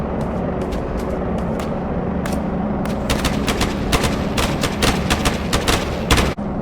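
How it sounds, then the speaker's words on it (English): Grenade blasts and rapid gunfire in a shooter video game, a dense run of sharp cracks and booms close by and loud, dozens of hits in quick irregular bursts that continue without pause. "Yeah, good time for a grenade,"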